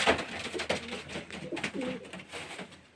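Pigeons coo softly while feeding from bowls in their coops, with low burbling calls mixed with scattered pecking and shuffling, close and at moderate volume.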